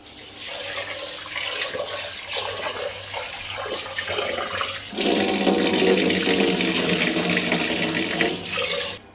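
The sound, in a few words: washing yellow moong dal under running tap water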